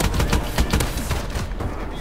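Rapid gunfire bursts from a Call of Duty: Advanced Warfare match, several overlapping shots in dense volleys over a steady game soundscape, loud and close for the whole stretch.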